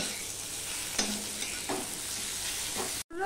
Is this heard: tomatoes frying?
yes